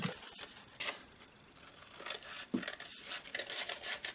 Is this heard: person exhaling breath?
no